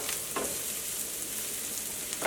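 Masala and coriander powder roasting in a pan for spicy fried sardines, a steady close sizzle with two soft scraping stirs, no voices.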